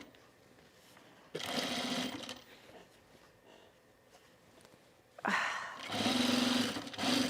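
An industrial sewing machine top stitching a bag in standard thread runs in two loud, steady bursts, a shorter one then a longer one, separated by quieter pauses.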